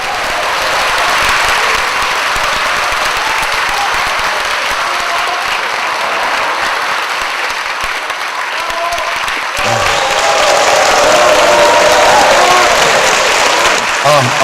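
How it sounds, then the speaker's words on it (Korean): Applause from a live studio audience at a Korean economics talk show taping, welcoming the featured lecturer onto the stage; a dense, steady wash of clapping runs throughout, swelling louder toward the end. "박수로 맞아주십시오."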